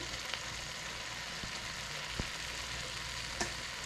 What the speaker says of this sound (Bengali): কষিয়ে ড্রাই করবো এটাকে। গ্রেভি পুরো শুকিয়ে এসছে।